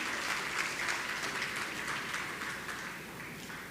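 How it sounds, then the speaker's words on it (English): Sustained applause from a crowd at a primary school graduation ceremony, steady dense clapping that holds evenly for several seconds with no talking over it. "Give them a round of applause,"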